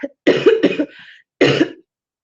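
A person coughs close to the microphone: a quick double cough, then a short raspy trailing breath, and a single harsher cough after a brief pause.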